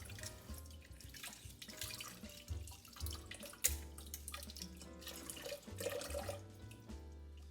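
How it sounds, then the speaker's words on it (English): Tap water runs in a thin stream over hard-boiled eggs being peeled at a sink, a quiet steady trickle and splash with a few soft knocks and drips, no voices. "little stream of water get down inside between the egg and the membrane, and that eggshell will slip right off"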